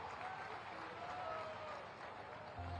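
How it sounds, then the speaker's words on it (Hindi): Loud, continuous applause from a large crowd at a public gathering in Kanpur where Chief Minister Yogi Adityanath inaugurates development projects, a steady roar of clapping throughout. "जोरदार तालियां कानपुर के लोगों के लिए"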